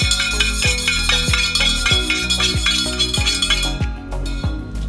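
A stir stick swirls coffee in a Starbucks ceramic mug, producing a rapid, regular series of bright clinks against the sides, close and loud, slowing and fading toward the end.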